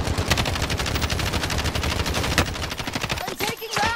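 Automatic gunfire from Call of Duty Warzone, with dense rapid bursts hammering continuously and loudly, then breaking into scattered shots toward the end under faint voice chatter.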